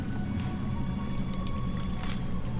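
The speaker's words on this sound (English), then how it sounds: "ahead you can hear a flowing river" A flowing river rushes steadily up ahead in a widening underground passage with coarse sand underfoot, a continuous broad wash of water with soft splashy accents, no voices.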